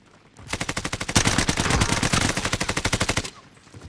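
A long burst of rapid automatic gunfire rattles out in an evenly spaced stream in a shooter video game, loud and close, then stops abruptly.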